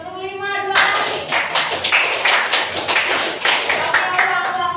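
A vocational high school class in Pekanbaru claps together in a rhythmic pattern, a run of sharp, evenly spaced group claps after a brief spoken instruction.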